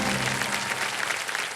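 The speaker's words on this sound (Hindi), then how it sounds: "और ताली वाली बजते रहे जोर से।" Studio audience of the quiz show Kaun Banega Crorepati season 17 breaks into steady, dense applause, a loud continuous wash of clapping with no gaps.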